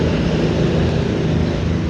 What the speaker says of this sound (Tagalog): umandar na. So, chinecheck ko lang yung tunog ng makina